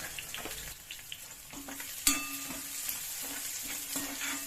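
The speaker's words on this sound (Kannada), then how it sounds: "ಈರುಳ್ಳಿ ಹಾಕೊಂಡ್ಬಿಡಿ. ಸ್ವಲ್ಪ ಎಣ್ಣೆ ಹಾಕೊಂಡ್ಬಿಡ್ತೀನಿ ನಾನು." Onions and curry leaves frying in a little oil in a pan for avalakki bisi bele bath, a steady soft sizzle with scraping stirs and a sharper clatter midway, close and moderately quiet.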